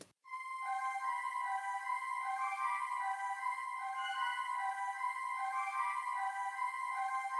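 A synth lead from the vocal presets of the Expand plugin, played as a sustained pad, holds a bright, glassy chord that swells in quickly and rings steadily with slowly shifting tones, alone and with no talk.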